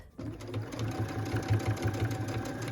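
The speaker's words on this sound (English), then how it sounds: "I'm going to stitch right along, right on that stitch line" A sewing machine runs steadily and close along the stitch line of a pieced, quilted stocking, a continuous rapid needle chatter with a low mechanical hum.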